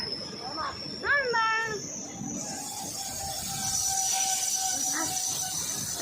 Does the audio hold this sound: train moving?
yes